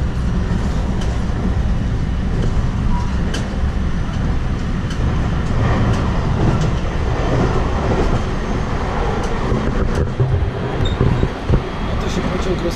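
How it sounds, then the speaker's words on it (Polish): A train to Kyoto, Japan, rumbles loudly along the rails with steady clattering and occasional sharp clicks, heard from inside a swaying carriage. "Oto się pociąg rozhuśtał."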